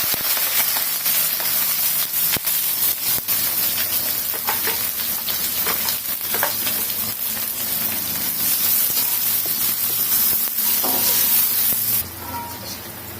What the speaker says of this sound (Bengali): পেঁয়াজটা আমি মোটামুটি ভেজে নিয়েছি